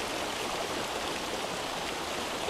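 River water flows steadily in a muddy, murky stream fed by runoff from soil, roads and hills, giving a constant broad rushing wash with no breaks and no voices.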